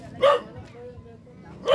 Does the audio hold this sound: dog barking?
yes